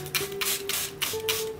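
Short bursts of a spray bottle misting water down one side of a springtail enclosure, several quick hissing pumps in a row, close and fairly loud, with no talking.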